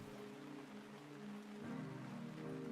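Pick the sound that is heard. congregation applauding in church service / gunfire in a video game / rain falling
rain falling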